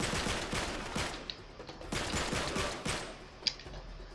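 AK rifle gunfire in the Uncharted 3 video game comes in repeated rapid bursts, close and fairly loud, with a sharp single crack near the end; no speech.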